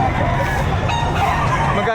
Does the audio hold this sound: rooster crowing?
yes